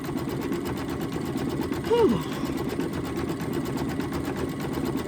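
An embroidery machine stitches out a floral quilt block design, its fast, steady whirring faint under a person talking throughout.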